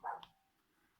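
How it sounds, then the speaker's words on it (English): A single short dog bark sounds faintly from some distance outside a home, followed by quiet. "That's a dog barking,"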